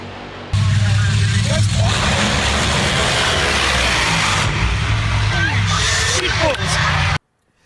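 Race car engine in a sim racing game, loud and sustained with shifting revs and tire noise through corners, cutting off abruptly at the end, with some talk mixed in.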